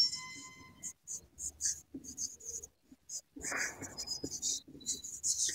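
Marker or chalk scratching on a board in a chemistry class, in short, soft strokes broken by pauses, with a teacher's voice talking over parts of it.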